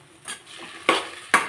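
Tomatoes for curry fry in a pan with a soft sizzle under three quick, close stirring scrapes of a spoon against the pan.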